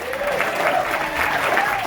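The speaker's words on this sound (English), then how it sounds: "All right, one round of applause, please." An audience at a Beatles fan festival trivia game bursts into applause, a dense, steady clapping from a crowd lasting about two seconds, with a voice faintly under it.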